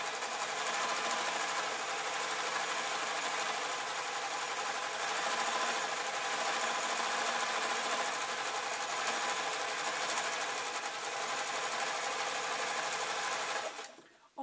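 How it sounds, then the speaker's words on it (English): A sewing machine stitches through satin apron fabric in one continuous, steady whirring run, close and loud, stopping abruptly near the end. "I'm going to run over it with the sewing machine"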